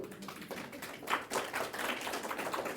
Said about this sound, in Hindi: बीच बीच में ताली बजा सकते हैं, ताली बजाओ